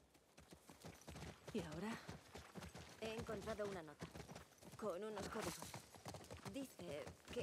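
Horse hooves clip-clop faintly in The Last of Us Part II, a steady patter running under near-continuous talk from a player throughout.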